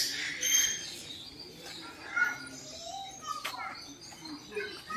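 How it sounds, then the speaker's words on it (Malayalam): Many birds calling in an aviary at the Mysore zoo: mixed chirps, tweets and pigeon-like coos at moderate distance, with a busy crowd murmur and children's voices underneath. "ആ കാണുന്ന എൻഡ് വരെ ഈ രണ്ട് സൈഡിലും ഫുള്ളായിട്ട് പക്ഷികളാണ് കേട്ടോ"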